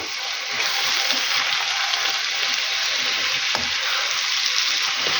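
Loud, steady sizzle of mushrooms frying in oil in a pan, with a hot continuous hiss and one brief clack partway through, no voices.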